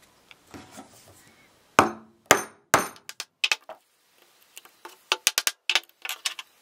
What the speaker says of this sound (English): Now use a wood chisel and cut the slot out.